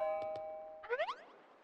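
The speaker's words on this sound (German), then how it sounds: "Oh, es hat an der Tür geklingelt." A two-tone electronic doorbell chime rings in the Pokémon Sun video game, two quick soft tones followed by a brighter warbling flourish, short and clear with no talking.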